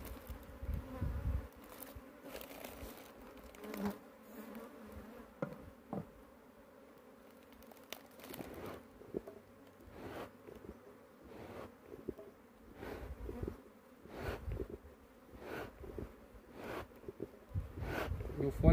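A young swarm of honey bees buzzes steadily close by during a hive transfer in the countryside, a continuous droning hum with a few louder passes and knocks, and a voice talking now and then.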